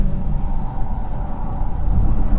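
A Polestar 2 electric car lapping the Nürburgring, a loud continuous low rumble of road and wind noise heard from inside the cabin, without any engine note.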